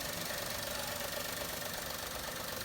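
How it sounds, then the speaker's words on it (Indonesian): A 2012 Daihatsu Xenia D 1.0 manual's engine idles steadily, giving an even, fairly faint mechanical hum with a light, regular ticking pulse throughout and no voices. "Suara mesinnya masih halus om ya"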